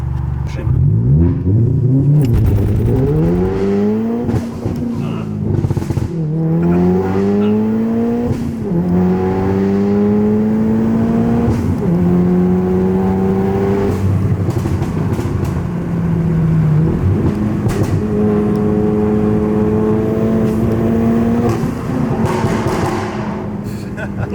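A 407 bhp manual VW Golf R accelerates hard, its engine climbing in pitch, then dropping sharply at several quick gear changes before rising again, loud and close throughout.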